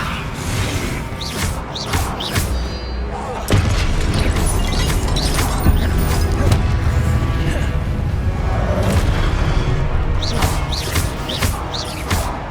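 Spell explosions in the video game Hogwarts Legacy: repeated booms, crashes and thuds layered over a loud, dense combat din throughout, with no speech heard.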